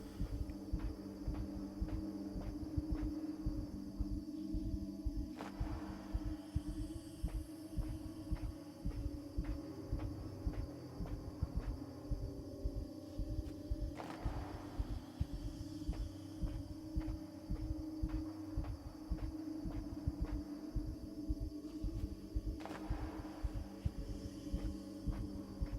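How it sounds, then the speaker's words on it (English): Steady low throbbing heartbeat in the soundtrack of the video game Inside, pulsing evenly beneath a constant droning hum, with faint swells of ambient texture and no voices. "You can hear the heartbeat on the soundtrack."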